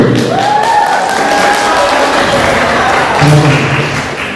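Applause from an audience at a university faculty closing and awards ceremony in Manado, a loud continuous wash of clapping with voices and a low tone sounding through it.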